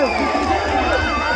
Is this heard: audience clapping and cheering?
yes